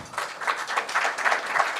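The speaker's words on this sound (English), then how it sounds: "A round of applause for Alex." An audience at an investment forum plenary session in Dubai gives the chief guest a short round of applause, a soft, pulsing patter of clapping heard at a moderate distance.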